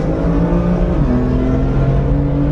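A BMW M4 and a Lamborghini Huracan Performante accelerate hard side by side in a race, heard as a sustained loud engine drone with rising pitch that steps up through a gear change.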